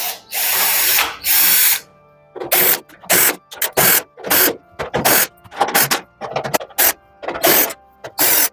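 A power drill removes screws from the back panel of an electric oven. It sounds as a string of short whirring bursts, some longer and some quick, with silent pauses between them, all close up.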